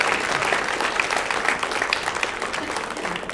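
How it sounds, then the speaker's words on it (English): Audience at a high school sports banquet claps steadily, a dense, even round of applause from many hands, fairly close and sustained for several seconds. "Let's give them a round of applause."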